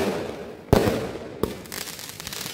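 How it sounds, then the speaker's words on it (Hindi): Dev Diwali fireworks and chatai bomb firecrackers in Jehanabad: two sharp nearby bangs a moment apart, then a spreading crackle of smaller pops over a steady smoky outdoor rumble, with no one talking. "ये देव दिवाली का जहानाबाद में आतिशबाजी थी"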